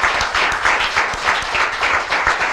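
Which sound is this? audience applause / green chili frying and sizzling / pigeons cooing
audience applause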